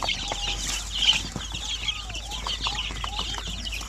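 Several native chickens cluck and chatter close by, with short overlapping calls over a low background hum.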